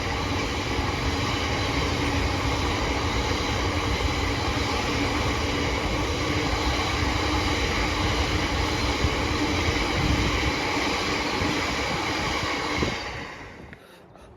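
Class 66 freight locomotive 66749 passes on a main line, a loud steady roar of engine and rumbling wagons sustained close by for many seconds before fading away abruptly near the end.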